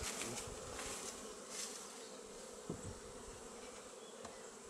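Honeybees buzz busily around a hive during an early spring inspection, a dense, continuous hum of many insects close by with brief louder passes.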